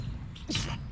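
A single short sneeze bursts out close by outdoors at Colonial Williamsburg, sharp and airy, against a low background murmur.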